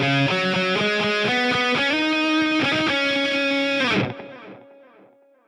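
A distorted guitar intro track plays steady layered chords with a strong reverb wash, then the playing stops near the end and the reverb tail rings out and fades alone.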